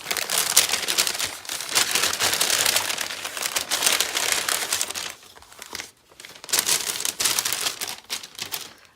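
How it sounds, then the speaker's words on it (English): Paper crinkles and rustles close up while an Illustrated Faith Joy Journey package is unboxed. The rustling is dense and busy, eases briefly near the middle, then picks back up, and no voices are heard. "I love the sound of crinkling paper."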